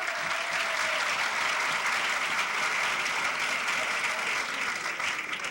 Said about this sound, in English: a round of applause for the whole world